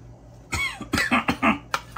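Someone preparing spicy Nellore red chilli powder for dosa coughs in a loud, close burst of several harsh, uneven coughs and throat-clearing sounds after a quiet start, with no talking.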